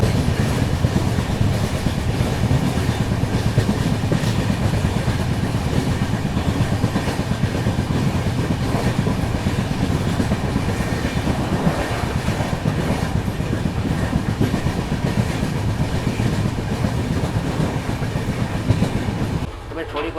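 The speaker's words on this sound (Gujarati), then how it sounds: "અને આપણે લાખા બાવળ પછીનો જે ડબલિંગવાળો સેક્શન છે અત્યારે એમાં જ આપણે ટ્રેન અત્યારે આગળ વધી રહી છે" A train runs steadily along a double-track railway section in Saurashtra, its wheels giving a continuous rumble and clatter heard from on board for the whole stretch, loud and even, cutting off abruptly near the end.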